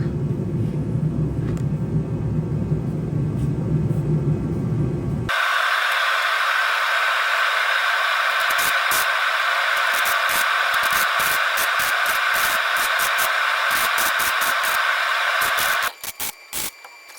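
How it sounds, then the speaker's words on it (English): Welding on the inner sills of a 1995 Jeep XJ Cherokee: after a low rumble, a loud steady crackling hiss runs for about ten seconds, broken by sharp pops, then cuts out near the end. "Now we're gonna start welding."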